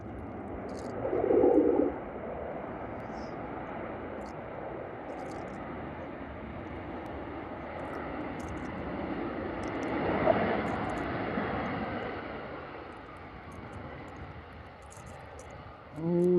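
A fixed-wing airliner landing at Liverpool Airport in a gusty crosswind, its engines giving a steady, moderately distant roar with a brief swell near the start and another around the middle, plus faint background noise.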